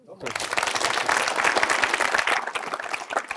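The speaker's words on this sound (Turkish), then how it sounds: "Bir alkış" A crowd breaks into steady applause that carries on for a few seconds, dense and even, with a few voices mixed into the clapping.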